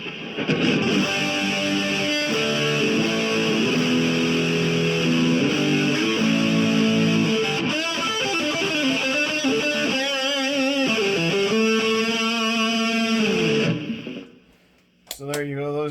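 A heavily distorted electric guitar plays thick sustained chords and lead bends, then cuts out briefly before one last note.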